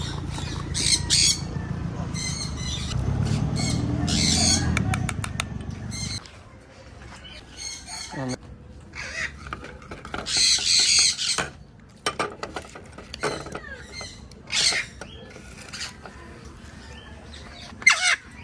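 An Eclectus parrot gives harsh, loud squawks and shorter raspy calls in irregular bursts, close by, with some clatter and a person talking quietly between calls.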